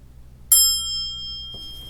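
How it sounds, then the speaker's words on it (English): A single bright ding from a retro telephone bell struck by a pin rings out sharply, with a clear metallic tone that sustains and slowly fades, followed by a faint mechanical click. "then here at the release, then it's ringing the bell"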